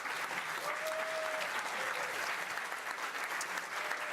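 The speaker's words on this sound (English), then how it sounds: "Kevin Sugihara, que vous pouvez applaudir" An audience applauds during Clint Eastwood's master class at the Cannes festival: a steady, even patter of many hands clapping at once, heard from within the hall at moderate volume for the whole stretch without a break.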